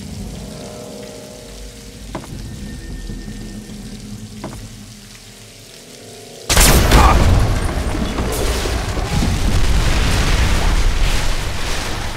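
A loud explosion blasts a hole shut in Fallout 3's Point Lookout, bursting suddenly after a quiet stretch and rolling into a long, dense rumble of debris and crackle.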